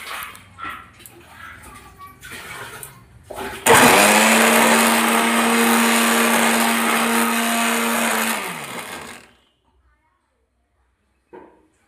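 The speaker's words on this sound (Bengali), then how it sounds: "এই আলুটা সেদ্ধ হতে হতে এটা আবার মিক্সিতে আমি আর একবার গুঁড়ো করে নিচ্ছি" An electric mixer grinder whirs loudly while grinding cumin seeds to a fine powder, a steady high-pitched motor roar that starts abruptly, holds for several seconds, then winds down and stops, preceded by quieter background sounds.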